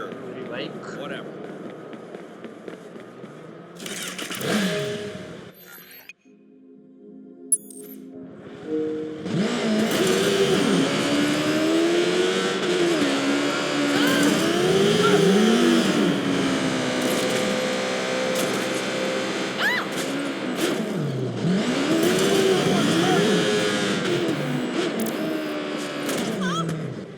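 Motorbike engine revving and riding in Watch Dogs 2, a loud buzzing drone rising and falling with throttle across most of the stretch after a brief quiet gap near the start.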